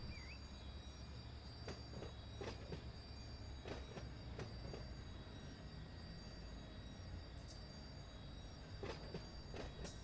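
Train brakes squeal on a freight train in the Run 8 Train Simulator game, with repeated sharp metallic screeches over a steady rolling rumble of wheels, and no one speaking.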